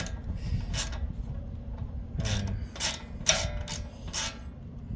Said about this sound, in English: So basically just remove those two screws.